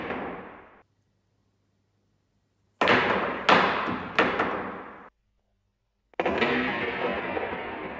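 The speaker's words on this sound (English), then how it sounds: "when you elevate your cue, let the cue ball jump a little, just a little" Cue ball jump shot on a pool table, with the elevated cue striking down and the ball hopping into other billiard balls: a cluster of three sharp, loud clacks and thuds in quick succession, then another sharp impact after a short silence.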